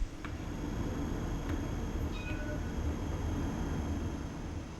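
Interior sound of a ScotRail Class 158 Sprinter diesel multiple unit running on the Fife Circle Line in Train Sim World 6 with an upgraded sound mod: steady loud engine drone and rail rumble throughout, with faint high tones.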